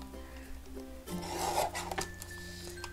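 Card stock trimmed for a pop-up card gives a quiet, close rasping rub that swells briefly in the middle and then fades, with no voices.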